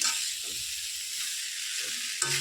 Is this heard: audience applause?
no